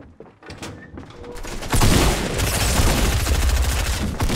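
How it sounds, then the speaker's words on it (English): A shotgun blast in Fortnite, a broad loud burst arriving after a quieter stretch, then dense continuing gunfire-like noise. "A shotgun blast? Shotgun blast?"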